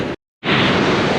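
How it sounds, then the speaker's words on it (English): Waves boom against the shore in a loud, broad roaring rush that breaks off briefly into silence and then surges back in strongly. "Right, the waves are booming."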